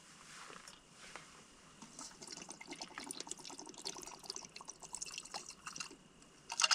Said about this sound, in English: So we're gonna put a nice healthy pour in there